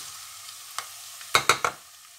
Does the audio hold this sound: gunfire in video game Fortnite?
no